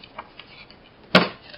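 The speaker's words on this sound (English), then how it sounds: "And punch your hole like right there." A small handheld hole punch snaps through folded craft paper in one sharp, close click, with faint tapping before it.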